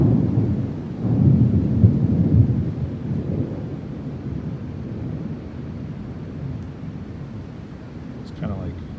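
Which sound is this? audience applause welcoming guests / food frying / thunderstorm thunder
thunderstorm thunder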